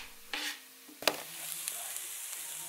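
Onions sizzle softly in butter in a pan, with a couple of sharp utensil knocks and scrapes as they are stirred, quiet and close.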